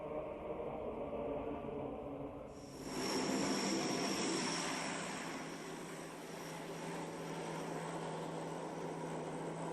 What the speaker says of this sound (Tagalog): Dumating kami sakay ng isang Canadian C-130.